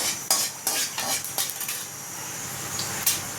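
A lump of asafoetida dropped into hot oil on a low flame for onion puli kulambu gives a bright hiss, along with a few sharp metal clinks of a spoon against the pan, close and without voices.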